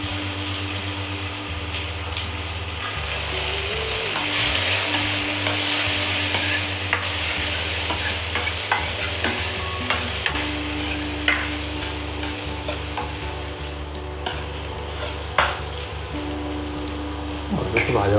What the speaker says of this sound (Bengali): এখন পেঁয়াজটা ভাজা হচ্ছে, পেঁয়াজটা একটু ভাজা হয়ে গেলে ডালের সাথে আলুটা সিদ্ধ করে নিয়েছি, আলুটা হালকা করে ভেজে নেবো